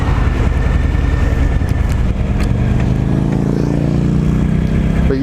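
A 2018 Harley-Davidson Fat Boy with the Milwaukee-Eight 107 engine rumbling steadily while riding, a loud, deep V-twin drone that rises in pitch toward the end as it accelerates.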